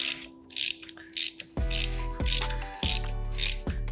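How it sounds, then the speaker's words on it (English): A wrench works loose the front sprocket bolt on a dirt bike, a few heavy clicking ratchet strokes and metallic knocks, close and fairly loud, with no talking. "for now, we'll just loosen this bolt"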